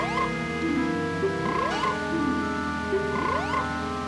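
Several sliding croaks from a frog in Zelda: Majora's Mask repeat every second or so, rising in pitch, over sustained game music.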